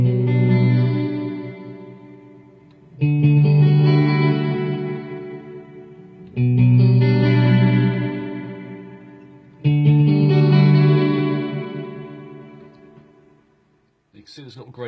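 Chords struck through a GFI System Clockwork Delay 2 pedal on its phi delay setting, four loud strikes spaced about three seconds apart, each trailing off in echoing repeats that fade before the next.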